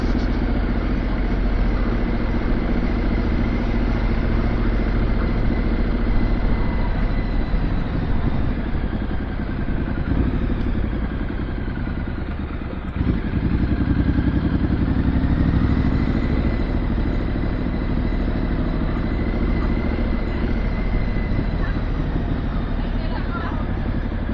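A CCM motorcycle engine runs steadily at riding pace, a constant loud mid-pitched drone with wind rush, with one brief dip partway through and no break over the whole stretch.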